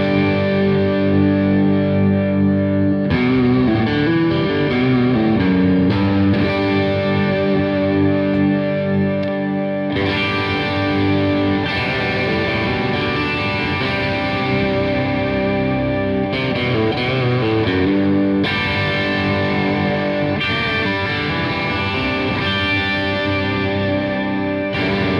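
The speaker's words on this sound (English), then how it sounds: "if you add, say, slapback delay, maybe some compression and a bit of drive to your sound, those notes really bloom and sound very full." Electric guitar played through slapback delay, compression and overdrive, sustained chords and short melodic phrases ringing with a doubled echo and thick distorted tone, loud and alone for about twenty-five seconds.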